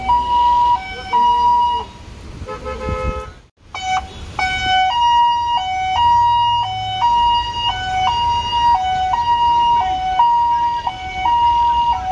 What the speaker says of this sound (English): There's a police car coming behind you.